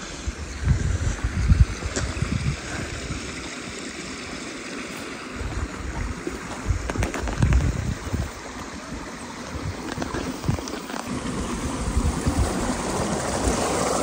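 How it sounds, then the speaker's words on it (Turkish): A mountain stream flowing into an irrigation pipe among wild mint, a steady close rushing and gurgling of water with a few louder splashes, continuous throughout with no talk. "Bakın suyu buradan sulama için boruya bırakmışlar."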